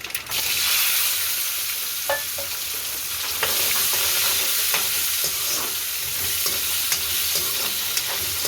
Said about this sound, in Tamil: இனி நாங்கள் வெட்டி வச்சிருக்கிற வெங்காயத்தை இதோட சேர்த்து வதக்க போகிறோம்